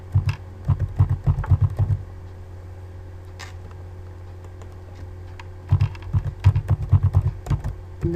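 The word Ubuntu being typed on a computer keyboard, two quick bursts of close, crisp keystrokes separated by a few seconds of quiet hum.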